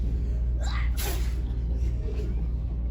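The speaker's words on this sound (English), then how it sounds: "I huffed, and I snuffed, and I sneezed a great sneeze" A single sharp sneeze bursts out over a steady low background hum, brief and fairly close.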